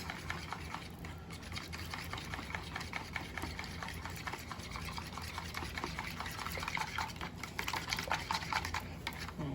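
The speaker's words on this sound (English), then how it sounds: "We're just going to whisk this." A whisk beats French toast custard with vanilla and cinnamon in a bowl, a steady quiet scraping and sloshing that carries on unbroken at close range.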